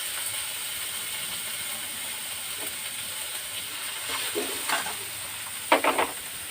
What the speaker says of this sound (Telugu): ఆయిల్ వేసాను కదా, మళ్ళీ గుమ్మడికాయ ముక్కలు కూడా వేసేస్తుంది